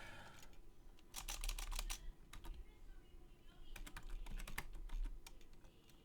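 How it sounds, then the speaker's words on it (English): Typing on a computer keyboard while looking up a currency ticker, with bursts of quick key clicks in two clusters, fairly close and quiet over low room noise. "Was I not typing TRY?"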